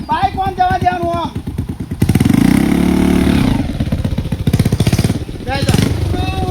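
A motorcycle passes close by with a loud, pulsing engine that rises into a sustained rev and then chugs on, while people shout and talk around it.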